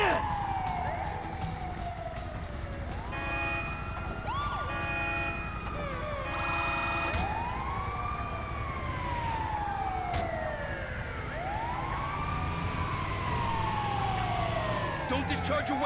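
A police siren in Grand Theft Auto V on PS5 wails in repeated rising and falling sweeps, loud and close, layered over engine and game noise with voices faintly beneath.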